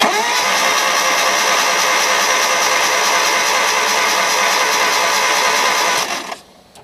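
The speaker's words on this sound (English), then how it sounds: "I'm going to crank this baby over" A steady, loud mechanical whirring drone of a Hyundai engine with no compression being cranked over by the starter, spark plugs out, holds for about six seconds and then cuts off abruptly.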